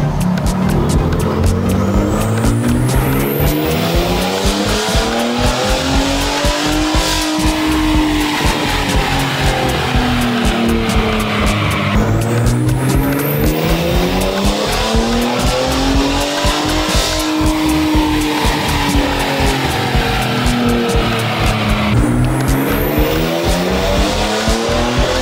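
A 2021 Gen 3 Ford Raptor with the 3.5L EcoBoost engine runs a dyno pull, revving in repeated loud sweeping rises and falls, close and relentless, with no talking.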